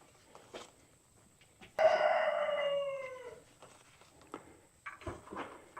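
A rooster, one of a flock of chickens bought from a farm store, crows a single long call at a sawmill yard, loud and fairly close, with quieter background sounds before and after.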